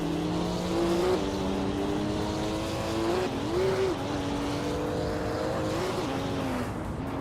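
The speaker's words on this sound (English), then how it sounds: "Silhouette is driving a 2019 BMW M8 GTE, starting from the 6th position." A 2019 BMW M8 GTE race car in a racing video game holds a loud, steady engine whine that shifts pitch with gear changes and throttle, with other race cars nearby and no talking.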